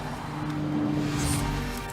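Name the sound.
Nissan GT-R car driving on track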